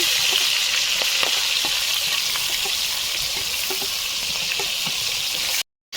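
Loud, steady sizzling of onion and green chili frying in hot oil in a wok, close by, with faint stirring taps, cutting out briefly near the end.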